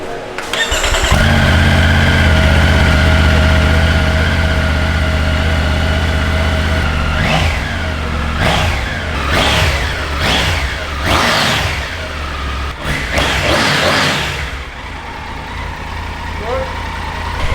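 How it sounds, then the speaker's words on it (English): A 2020 Triumph Tiger Rally Pro motorcycle starts up and idles with a steady engine hum, then is revved in several sharp, rising bursts before dropping back to idle, close and loud. "Startup of the new Triumph Tiger 2020."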